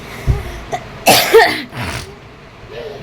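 A woman recovering from a lingering cough coughs a few times close up, with a short run of harsh, throaty bursts and a throat-clearing sound in a quiet room.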